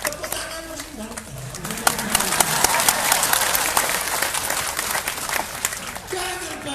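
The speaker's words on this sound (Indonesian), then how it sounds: "Tepuk tangan mesti bangga" Audience applause at a centenary commemoration gathering of NU in Tarakan, a dense wash of clapping lasting several seconds, with a speaker's voice heard over it at the start and end.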